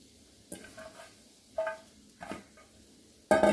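A spoon stirs coconut rice mixed with coriander leaves in a pan, giving a few separate scraping, clinking strokes with quiet gaps between them, then a louder clatter at the end.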